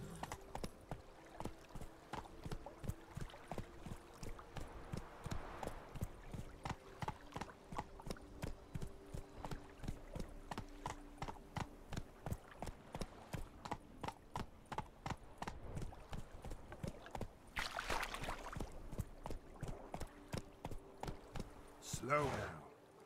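Horse hooves from the Witcher 3 video game beat a fast, steady clip-clop rhythm at close range throughout, with a brief louder burst of noise near the end.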